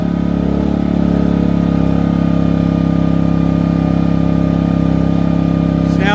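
A Ryobi 1800W/2300W inverter generator runs under a heat gun load, its engine holding a loud, steady, close-up drone for several seconds without any change in pitch.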